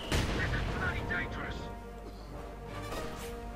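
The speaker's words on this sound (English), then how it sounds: "Quick few shots there" Gunfire in the World War II strategy game Company of Heroes 2: a few quick shots crack out over dense, continuous battle noise, with commentary talking over them.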